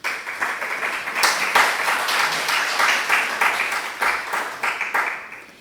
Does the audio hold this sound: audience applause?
yes